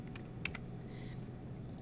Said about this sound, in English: I'm gonna use the arrow keys to nudge it into place.